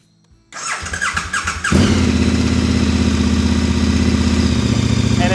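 A KTM adventure motorcycle, a cold engine, fires up and revs to about 4,000 RPM, settling into a loud, steady high-rpm drone close by.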